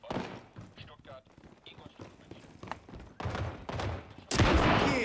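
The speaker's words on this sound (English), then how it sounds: "again that shotgun" Shotgun blasts and scattered gunfire in a World War 3 combat video game, sharp bursts over constant rumble with a loud close blast near the end, while a player talks over the action.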